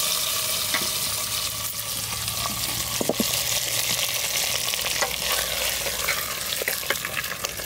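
Ginger paste and spices sauté in a pan for khichuri, giving a dense, continuous sizzle broken by occasional scraping stirs and clicks of the spoon.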